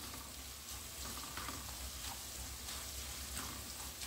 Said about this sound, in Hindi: अभी इसको भून लिया है हमने